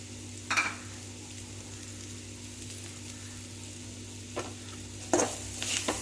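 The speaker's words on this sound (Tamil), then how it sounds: "நல்லா இந்த மல்லித்தலையோட ஃப்ளேவர்லாம் நல்லா வதங்கி இறங்குற வரைக்கும் நல்லா வதக்கிக்கலாம்" Potato fry with coriander leaves sautéed in a pan, a low steady sizzle with occasional spatula scrapes and stirs, no voices.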